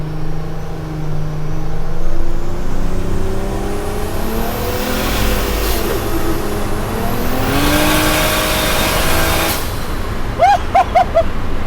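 A 1JZ-swapped big-turbo Toyota Hilux accelerates hard in second gear, the engine note climbing loudly and continuously from close by, with faint chirps near the end.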